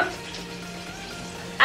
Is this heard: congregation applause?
no